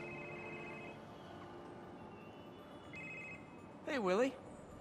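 A telephone ringing in a cartoon, a brief electronic trill that repeats twice over a quiet background, followed by a short louder voice near the end.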